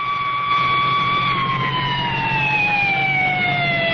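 An ambulance siren on a highway accident scene wails steadily and loudly as the vehicle pulls away, its pitch slowly sliding downward with no pause.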